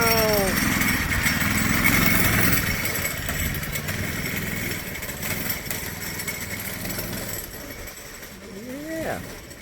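Small go-kart engine driving around a yard, a buzzing mid-distance drone that rises and falls as the kart circles, with voices talking faintly over it.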